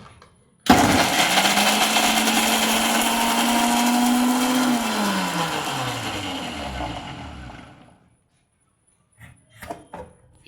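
A mixer grinder runs on cut coconut with a glass of water, a loud steady whirring grind with a descending motor tone, then winds down and stops, leaving a few faint clatters.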